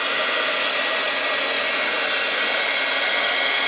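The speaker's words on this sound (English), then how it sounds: "Just keep your heat gun moving all the time." A heat gun blows hot air over polymer clay, giving a loud, steady, unbroken hiss of blowing air throughout, close by and with no voices.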